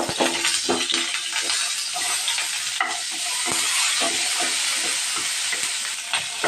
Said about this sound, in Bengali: তেলের মধ্যে ভেজে নেব।